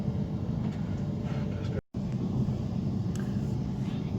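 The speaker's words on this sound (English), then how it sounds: "I'm sitting on a train and we're gradually gathering speed and getting out of Madrid" Train gathering speed as it pulls out of Madrid toward Burgos, a steady loud interior rumble with a brief dropout partway through, heard from inside the carriage.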